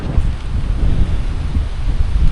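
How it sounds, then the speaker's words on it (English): Strong wind buffets the microphone on an open cycle path, a loud, uneven low rumble that gusts in waves. "As you can see, it's very windy."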